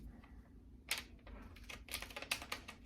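Pinking shears cut through heat transfer vinyl in a quiet room, a run of soft, crisp snips and clicks, several in quick succession, faint and close without any voice.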